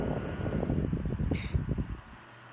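A small battery-powered fan runs loudly and steadily up close, a dense airy whir that holds for a couple of seconds and then drops off.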